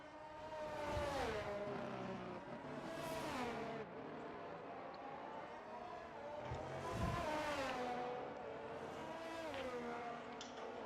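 F1 cars lapping the Miami circuit in a racing video game, engine whines rising and falling in pitch as cars sweep past, several overlapping passes at moderate level, no voices.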